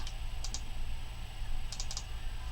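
Keys clatter on a computer keyboard at a desk in two short bursts, a couple of quick taps and then a faster cluster, faint over a steady low hum with no talk.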